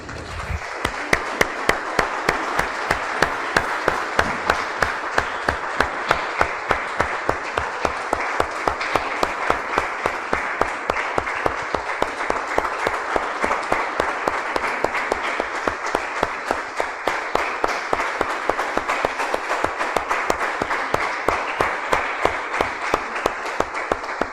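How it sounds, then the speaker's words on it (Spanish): A church congregation applauds for the Lord, a long, even, rhythmic clapping in unison with sharp regular beats that continues unbroken for over twenty seconds. "Damos un aplauso, hermanos, al Señor"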